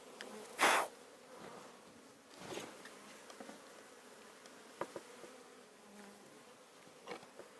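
Honey bees buzz around a hive outdoors, a faint steady hum with one bee passing very close and loud early on and other brief fly-bys drifting near and away.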